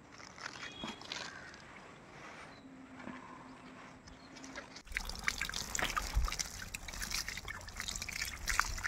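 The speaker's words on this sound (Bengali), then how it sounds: "তারপর জল দিয়ে দেবেন।" Water poured from a container onto the soil of a potted plant after Epsom salt has been scattered, a soft trickle that swells into a louder, steady splashing pour partway through.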